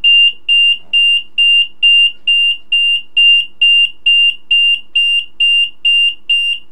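A loud, high-pitched electronic alarm from a Sencore LC102 test instrument beeps in a steady, evenly spaced rhythm, about two pulses per second, with nothing else audible.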